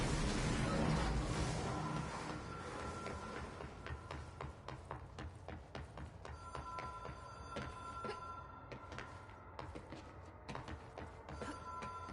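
A telephone rings repeatedly in the Control video game, a bright metallic bell trilling in regular bursts over a low rumbling backdrop, loud and close with no voices.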